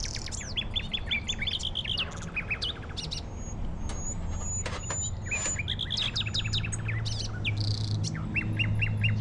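Several birds chirp and squawk in the 1996 game Urban Runner, in repeated bursts of bright twittering calls over a constant low background rumble.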